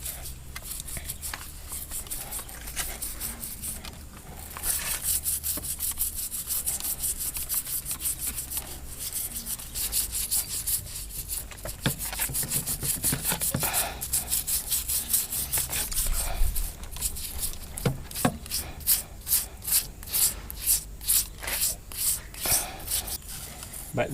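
Brush scrubbing with degreaser on greasy parts of a Toyota 1JZ-GTE engine, a steady rasping rub that ends in a run of quick, rhythmic strokes; occasional talk can be heard in the background.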